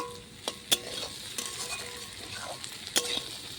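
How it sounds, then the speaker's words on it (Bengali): Potatoes and onions frying in a pan with white pokhu greens and peanuts, a low steady sizzle broken by a few sharp scrapes and taps of a spoon as the mixture is stirred, close and fairly quiet. "দেখেন পেঁয়াজ আর সব কিন্তু খুব ভালো করে ভাজা ভাজা হচ্ছে"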